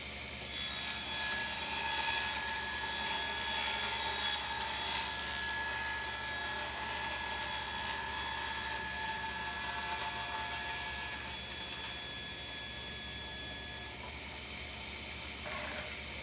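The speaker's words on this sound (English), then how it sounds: "first thing I'm going to do is cut this out on my table saw." A table saw blade cutting through plywood, a loud sustained whining roar with steady tonal ringing, continuous for most of the cut before the pitch shifts and the sound eases near the end.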